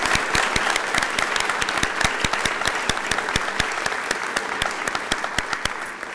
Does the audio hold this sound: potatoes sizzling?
no